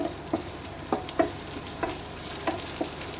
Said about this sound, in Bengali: পেঁয়াজ কুচি দিয়ে ভালো করে আমি নেড়ে চেড়ে নেবো।